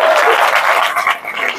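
An audience claps steadily, a dense, loud wash of applause that carries on throughout and dips briefly near the end.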